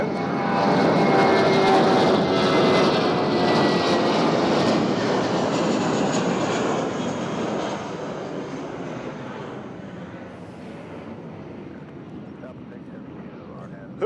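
A United airliner bound for Denver passes near an airport, its engine roar loud and broad at first, then slowly fading as it moves away, with no talk over it.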